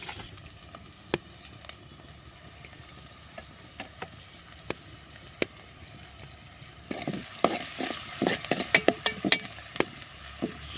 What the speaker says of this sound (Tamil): வெங்காயம் வந்து பார்த்திங்கன்னா கருகக்கூடாது, நல்லா பொரிஞ்சு வரணும்.